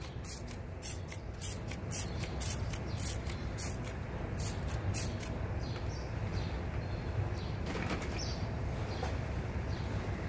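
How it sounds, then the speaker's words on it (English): Steady broadband hiss of water spraying onto an engine, continuous for the whole stretch, with brief bursts and splashy peaks overlaid; close and fairly loud. "That's just by literally spraying it on, spraying it off."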